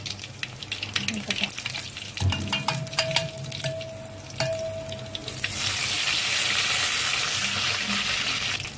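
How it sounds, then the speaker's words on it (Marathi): Mustard seeds, cumin, garlic and curry leaves tempering in hot oil for kadhi pakoda, with scattered popping crackles that swell into a loud, steady sizzle and hiss once more goes into the pan; no talking. "राई तडकला ना 1 चमचा जिरा टाकून घ्यायचं. त्याच्या पाकळ्या घातल्या 3 आणि थोडंसं कढीपत्ता टाकून घ्यायचं."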